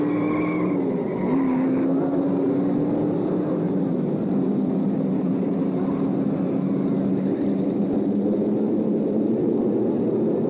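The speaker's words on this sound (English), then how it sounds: "It's become a two-man race between Jeffrey Pryor, driving car number one, and Clint Daniels in car number 22." Race cars roar steadily around a track in a 1972 TV movie, with a dense, constant engine drone, a rising whine, and tire-squeal tones early on, loud and sustained throughout.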